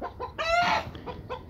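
A chicken in a Pakistani household clucking close by, short throaty clucks around a louder drawn-out squawk in the middle.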